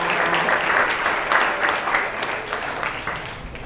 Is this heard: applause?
yes